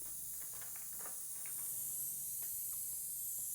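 Spray paint hisses steadily onto the body of a goddess statue, a continuous bright airy spray with no break, close and moderately loud throughout.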